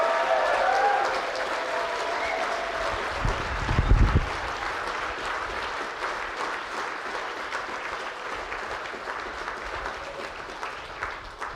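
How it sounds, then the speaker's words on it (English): Sustained audience applause at a Hall of Fame induction ceremony in Bretton Woods, a broad even roar of clapping from a large room that holds steady for over ten seconds, with a brief low thump partway through. "Let's give our inductees tonight a big round of applause"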